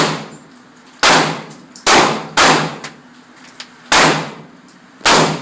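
Ruger LC9 pistol fired at a gun range: six sharp, loud reports spaced irregularly about a second apart, each with a bright ringing decay, heard up close with no talking.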